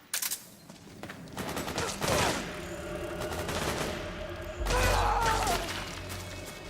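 Bursts of gunfire in the Metal Gear Solid video game, a rapid volley at the start followed by heavier sustained firing and a loud crashing barrage later, with clattering mechanical debris between shots.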